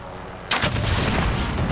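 Strela launcher fire in Call of Duty: Warzone, a single loud booming blast at about half a second, followed by a rumbling decay and lingering game noise, with no talking.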